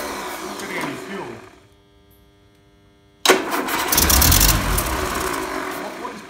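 After a hesitant, quiet stretch, the engine of a Land Rover Series 3 under restoration suddenly catches and roars to life close by, then keeps running unevenly at a loud, rough idle.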